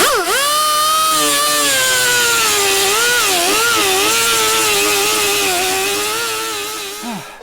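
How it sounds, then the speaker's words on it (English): Power tool, likely an angle grinder, grinding welds on a Jeep XJ rocker panel: a loud, close, sustained whine that rises and wavers in pitch as it bites the metal, then winds down at the end. "I'm going to get to grinding here."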